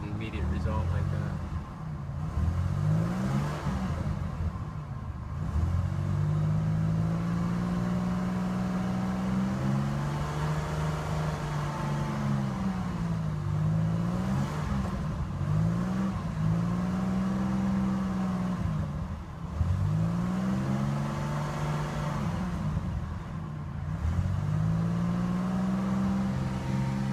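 A 1988 Buick LeSabre with the 3800 V6 engine, freshly treated with Seafoam, runs steadily and revs up and down in repeated swells, with a person talking over the engine.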